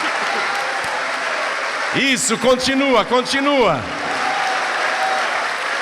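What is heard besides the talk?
church congregation applauding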